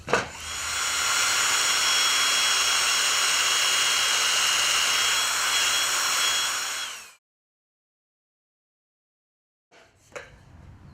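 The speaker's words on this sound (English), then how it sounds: "I'm probably going to pre-drill it about half the length of the screw that I've got left" A power drill whines steadily for about seven seconds while boring pilot holes into reclaimed wood clamped in a vise, then stops abruptly, followed by silence and a brief clatter.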